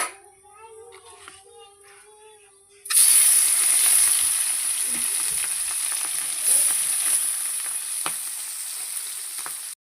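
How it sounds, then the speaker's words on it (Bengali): Fish coated with salt and turmeric drops into hot oil and frying sizzles loudly and steadily, with faint voices and someone talking just before the hiss begins. "এবার মাছটার মধ্যে নুন হলুদ মেখে আমি মাছটা ভেজে নেব"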